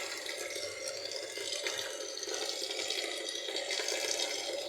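Tap water runs steadily over cooked spaghetti in a kitchen sink, a continuous broadband splashing hiss that holds fairly even, close and moderately loud, with no talking.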